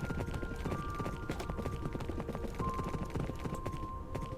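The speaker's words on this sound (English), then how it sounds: "Whichever way you look, that's where the horse goes." Horse hooves galloping in Minecraft, a quick steady clip-clop rhythm of many hoofbeats over a low rumble, with a faint tonal hum behind.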